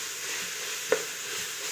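Onion, chili and ginger-garlic paste fry in oil in a pan for coconut rice, giving a steady close sizzle with one brief stir or scrape partway through.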